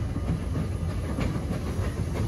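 Amusement park train at Efteling running past, a steady rumbling roll with faint rhythmic clicking of wheels on track, loud and continuous with no talking.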